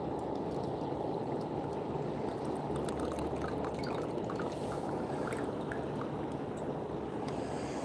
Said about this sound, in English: pour some more tea here